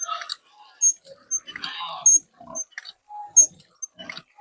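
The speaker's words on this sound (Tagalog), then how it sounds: "medyo nagingay ang aking mga alagang baboy dahil gutom na daw sila" Hungry pigs squeal and grunt in short, sharp bursts, close by, with brief pauses between outbursts.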